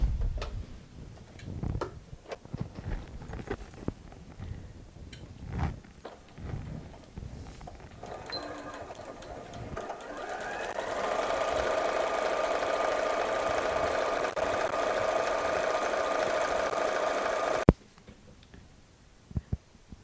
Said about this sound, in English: I'm going to sew just along the edge of the fabric and the edge of my foot